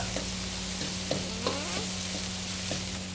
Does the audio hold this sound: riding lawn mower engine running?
no